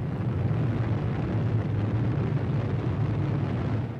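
Trinity test atomic bomb explosion in the New Mexico desert, 1945, a dense continuous low roaring rumble that stays loud and steady throughout, with no voices.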